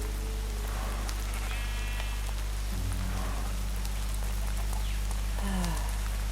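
Steady rain falling on surfaces outdoors, a dense constant patter and hiss throughout, with sheep bleating faintly in the background now and then.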